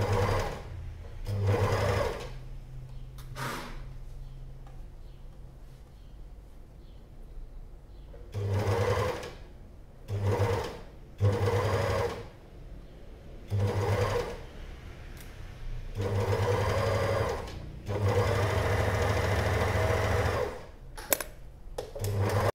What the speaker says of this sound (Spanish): lo vamos a ir cosiendo nada más a las zonas que tenemos que coser